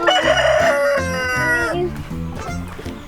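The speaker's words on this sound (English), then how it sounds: "I have no idea why we have these white roosters." White homestead rooster crowing in one long, loud, close call, followed by a few shorter clucking or crowing notes.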